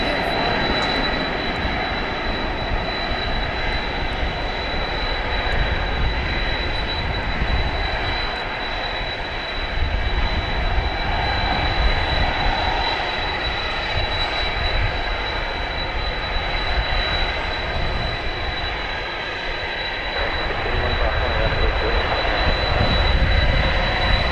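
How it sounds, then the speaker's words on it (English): A Boeing 777 with no passengers takes off from DFW Airport. The jet engines give a loud, steady roar that holds and swells slightly for the whole stretch, with no talk over it. "Seemed to make a pretty normal takeoff there."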